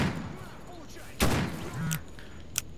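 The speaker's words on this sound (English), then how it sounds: "What are you shooting at, bro?" Gunfire in the video game STALKER Anomaly, a single loud nearby shot followed later by a sharper, briefer distant crack, over a steady ambient game background.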